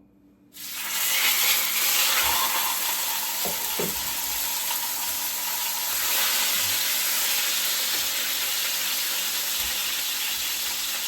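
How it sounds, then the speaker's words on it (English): After a brief quiet moment, a loud, broad sizzle bursts out as a steak hits a hot frying pan and keeps hissing steadily, with a few faint knocks. "I'm gonna put this steak right in the frying pan now."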